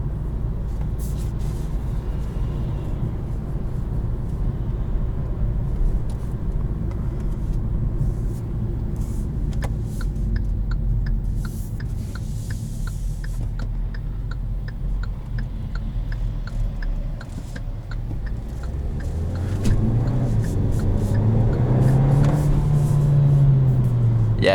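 A turbocharged Kia Seltos engine pulls under acceleration as a steady, full-bodied cabin drone, with light ticking through the middle and the pitch climbing toward the end.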